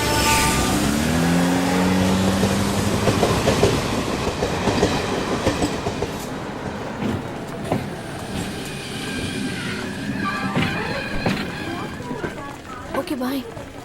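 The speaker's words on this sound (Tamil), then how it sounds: "எது ட்ரெயின் வந்துச்சு." A train rumbles past with a steady rolling roar and rhythmic clatter of wheels, people talking over it, and a horn-like tone early on.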